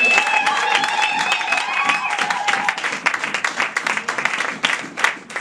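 A church congregation at an evangelical service bursts into steady applause that fills the room, with voices cheering through the clapping.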